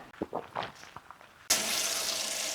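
Shower water suddenly starts running and keeps up a steady, loud hiss, following a second or so of soft rustling and movement.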